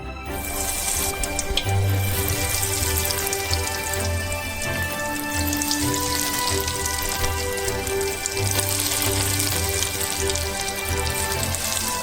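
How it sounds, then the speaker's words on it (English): Potato croquettes deep fry in a pan of oil on a stove, a dense, continuous crackling sizzle with fine popping throughout, steady and loud, over a faint hum. "And we deep fry our potato croquettes."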